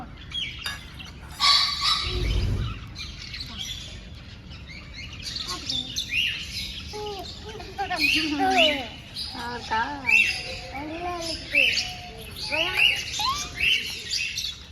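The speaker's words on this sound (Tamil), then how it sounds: "அந்த குருவி வருது பேரு" Sparrows at a bird park chirp in quick, repeated bursts that grow busier and closer in the second half, with family voices talking at moments over the birds.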